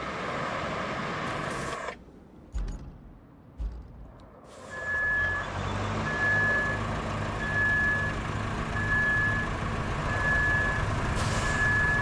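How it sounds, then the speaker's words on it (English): A truck's reversing beeper in the Roadcraft video game sounds a steady run of evenly spaced electronic beeps, about one per second, over a low engine rumble, after a few seconds of broken, patchy noise. "like a beep beep, you know, backup beeper?"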